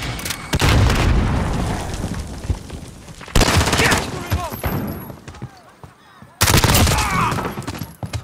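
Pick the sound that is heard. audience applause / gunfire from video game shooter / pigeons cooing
gunfire from video game shooter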